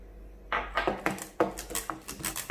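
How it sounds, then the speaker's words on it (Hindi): A whisk clinks steadily against a bowl while mixing yogurt and gram flour (besan) into a batter for kadhi, with about a dozen quick, fairly close strokes and no talking. "इसे अच्छे से इस तरह से इसकी लस्सी बना लेके मिक्स कर लेंगे"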